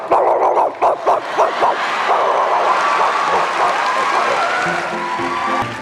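A voice imitates a dog on a talent show stage: a run of short, loud barks close up at the start, then the audience breaks into sustained applause and cheering that carries to the end.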